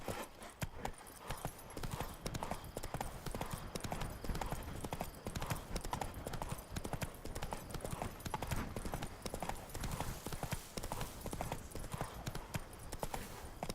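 Horse hooves trotting steadily in The Witcher 3, a dense, continuous clip-clop rhythm close by and loud throughout, with a faint voice briefly over it.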